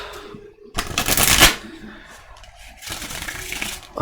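Tarot cards are shuffled up close in two quick, crisp riffling bursts, with a short quiet pause between them.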